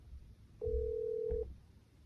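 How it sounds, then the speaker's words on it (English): An outgoing phone call being placed to Yelp, a single steady ringback tone lasting under a second, clear and close over a quiet line with faint low background hum. "Let's make a phone call right now."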